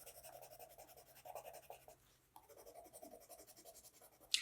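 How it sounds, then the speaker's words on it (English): A Holbein artist colored pencil in sepia scratches steadily across sketchbook paper in close, quiet strokes with a brief pause midway and a small tap near the end. "This is a Holbein artist colored pencil in sepia."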